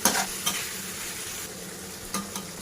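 Konjac stir-frying in a pan: a steady, close sizzle with occasional scraping stirs of the utensil against the pan, no voices.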